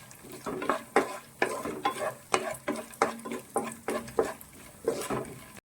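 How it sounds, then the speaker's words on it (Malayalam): Peanuts fry in ghee in a pan while a spoon stirs them for a tapioca-flour halwa, with steady close scrapes, roughly a dozen rhythmic strokes over a constant soft sizzle and no talking. "ഈ കപ്പലണ്ടിയും കൂടി നമുക്കൊന്ന് വറുത്തെടുക്കാം."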